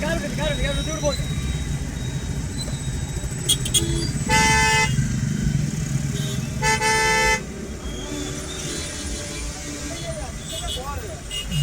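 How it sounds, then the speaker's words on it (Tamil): Heavy road traffic at a congested junction in Coimbatore, with engines rumbling nearby and several car horns honking in long and short blasts, loud and close. "பாருங்க எவ்வளோ டிராஃபிக் ஆகுதுங்க."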